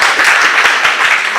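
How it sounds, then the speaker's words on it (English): A brief burst of audience applause at a health handbook launch event in Lagos, a close, loud patter of clapping hands lasting just over a second. "Please clap."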